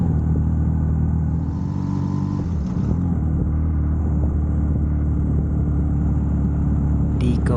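A motorcycle rides through the city at night around Center Point of Indonesia, its engine a steady low rumble throughout with a brief dip in the middle before it pulls again, close and continuous.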